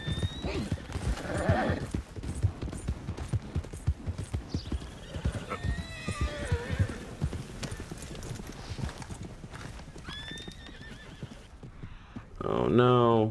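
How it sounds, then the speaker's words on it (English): A herd of horses in the video game Red Dead Redemption 2 trots past with steady clip-clopping hooves and several whinnies, then a loud burst near the end. "There's like a random herd of horses."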